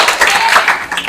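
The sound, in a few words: students clapping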